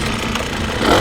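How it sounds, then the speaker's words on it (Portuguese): A homemade motorcycle powered by a brush cutter engine revs loudly and close up, a harsh buzzing drone that swells briefly near the end. "Dá uma acelerada, esquentar o motor."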